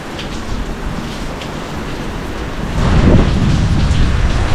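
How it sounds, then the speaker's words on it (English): Steady rain pours down, growing heavier partway through, with a low rumble underneath and no voices. "So it's officially raining now."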